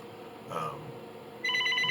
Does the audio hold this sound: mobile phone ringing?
yes